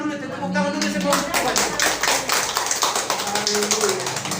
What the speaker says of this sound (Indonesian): kita tepuk tangan dulu semua